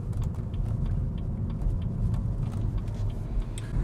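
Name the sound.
car driving onto a roundabout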